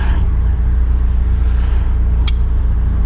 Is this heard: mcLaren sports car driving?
yes